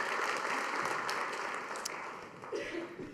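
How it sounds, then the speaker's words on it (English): University faculty and staff applaud at a state-of-the-university address, a dense, steady wash of clapping that fades slightly toward the end, where a brief voice cuts in. "Give yourselves a round of applause"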